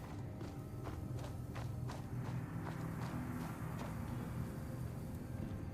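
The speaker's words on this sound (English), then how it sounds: "footsteps." Video game footsteps thud in a steady walking rhythm of soft, repeated steps over a constant low background rumble, moderately faint and without talk.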